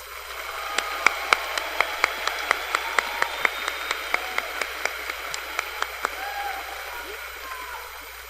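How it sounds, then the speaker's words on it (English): Applause fills a school scholars recognition ceremony as seventh grade Dallas ISD Scholars are honored, with a dense wash of many hands and sharper individual claps standing out through the crowd noise, steady for several seconds before easing off. "Let's give them a round of applause"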